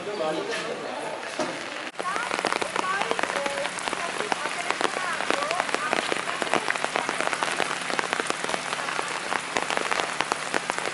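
Rain patters steadily on a surface in a small lakeside village on Lago Maggiore, a dense crackling hiss with a voice speaking briefly near the start.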